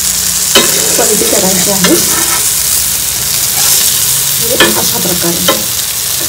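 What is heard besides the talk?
surmai (kingfish) fish frying in a pan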